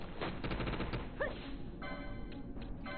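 In Final Fantasy XII: The Zodiac Age, a Fire spell hits during a battle in the Henne Mines. A quick cluster of sharp, crackling bursts gives way to a steady rumbling roar.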